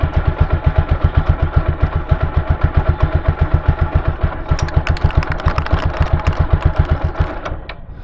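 Motorcycle engine held running in first gear with the rear wheel spinning freely, a rapid regular thudding pulse, loud and close, chain and wheel clatter rising over it toward the end.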